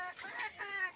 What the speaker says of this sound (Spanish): Aquel pollito está un poco temeroso, entonces ha estado así como que gritando un poco.